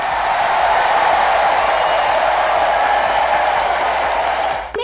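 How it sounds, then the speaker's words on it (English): Steady, dense applause from a film festival audience for the filmmakers, loud and continuous, fading slightly at the very end. "please stand for a round of applause."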